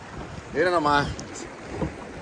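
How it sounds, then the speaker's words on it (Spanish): Strong wind and choppy waves on open water during a boat outing, a steady gusty rush buffeting the microphone while someone briefly speaks over it. "Mucho viento. Muchas olas aquí."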